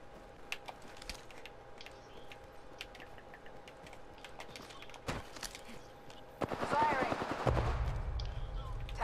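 Rapid bursts of fully automatic pistol fire in Apex Legends, clustered near the end of the clip and fairly loud over game ambience, with scattered earlier clicks.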